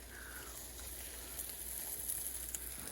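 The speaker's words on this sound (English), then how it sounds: "It has enough butter in it so I don't actually have to add anything to toast it in the pan" Corn toasting in butter in a hot pan gives a faint, steady sizzle with soft crackles, heard alone without talk.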